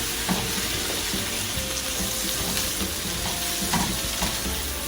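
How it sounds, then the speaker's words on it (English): Beef fajitas sizzling in a hot pan while being stirred, a steady dense hiss of frying with occasional spatula scrapes and taps, loud and close throughout. "it's technically done, so we're gonna stir a little bit"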